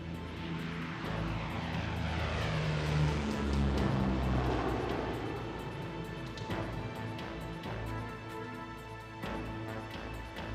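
A fixed-wing propeller airplane's engine drones steadily and loudly near an airport, with a broad continuous roar that swells slightly around the middle and then holds, with no talking.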